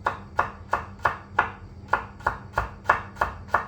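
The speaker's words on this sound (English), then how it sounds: "I'm just gonna mince the garlic" A knife mincing garlic strikes a cutting board in quick, evenly spaced, crisp chops, about eleven close-up hits in a few seconds, with nothing else heard.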